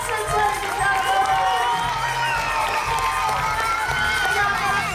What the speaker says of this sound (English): Big round of applause for our contestants, ladies and gentlemen.